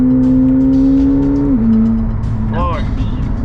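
A McLaren 720S supercar tuned to about 1,000 horsepower accelerates hard, its engine note a loud steady drone that dips at a gear change and then climbs again, with people talking over it inside the car.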